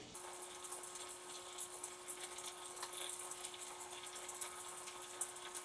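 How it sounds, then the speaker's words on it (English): A baby bottle cleaning machine sprays warm water during its wash cycle, a faint steady hiss of jets and splashing over a constant motor hum with small intermittent spatters. "You can see there's bits and spouts of water shooting up from where the bottles would be locked into."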